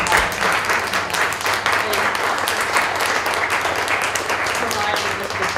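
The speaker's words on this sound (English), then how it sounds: "please give a round of applause for Gateway Community." An audience at a restorative justice conference claps steadily throughout, a dense, even patter of many hands heard fairly close, with some voices mixed in underneath.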